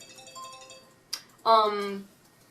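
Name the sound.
mobile phone ringing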